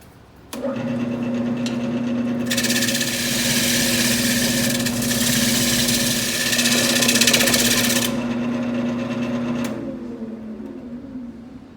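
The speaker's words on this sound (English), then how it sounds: "I'm going to go back to the roughing gouge and do a little bit more work on this" A wood lathe motor drones steadily as a roughing gouge shaves the turning workpiece, adding a continuous loud hiss and scrape for several seconds. The cutting then stops and the machine winds down. The sound is close, with no voices.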